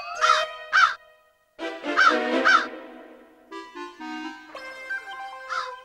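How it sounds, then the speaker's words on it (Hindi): A crow caws in a sharp, repeated series of loud, close calls, paired harsh caws followed by a longer run, with a musical score underneath. "देखिए हुजूर, ये कौवा कैसे काव काव कर रहा है।"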